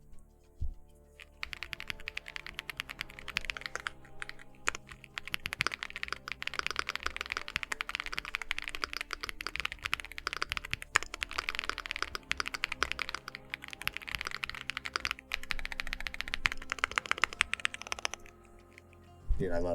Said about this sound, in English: I love this keyboard so much. It sounds so good.